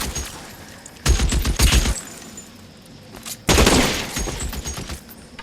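A shootout in L.A. Noire: two loud, dense bursts of rapid gunfire break out close by, separated by a quieter lull with distant background noise between them.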